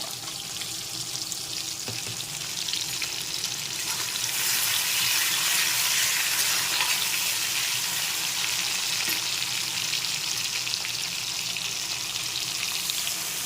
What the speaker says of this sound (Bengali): মশলাটাকে একটু কষিয়ে নিতে হবে